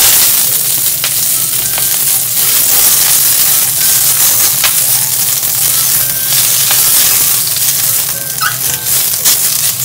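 Vegetables are stir-fried in an iron frying pan over medium heat to draw out its metallic smell, giving a loud, continuous sizzle with scattered scraping and stirring clatter throughout.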